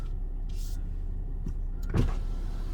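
A power window on a Kia K8 3.5 gasoline AWD car runs briefly, with a soft motor whir inside the cabin and a thump near the end, over a steady low background hum.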